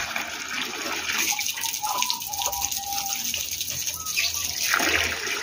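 Water poured from a container for a pet civet, a continuous splashing trickle at close range that swells near the end, with no one talking.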